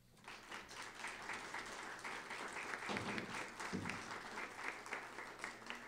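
Audience applause at a museum award ceremony, honoring the jury members: a steady wash of many hands clapping, fairly distant and quiet, holding evenly for several seconds.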